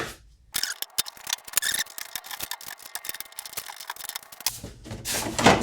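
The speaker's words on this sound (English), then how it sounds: "I'm just gonna use a regular screwdriver to pop these out" A regular screwdriver pries brittle plastic push-pin retainer centers out of the radiator support trim on a 2006-2009 Honda Ridgeline, making a quick run of close, sharp clicks, snaps and scrapes.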